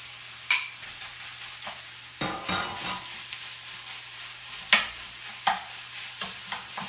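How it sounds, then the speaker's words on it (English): Beef dropped into a pan of frying onions, sharp bursts of sizzle and scraping as the meat is stirred, in irregular loud strokes over a quiet background hiss, close up, without talk. "so I'm going to go ahead and add the beef in here."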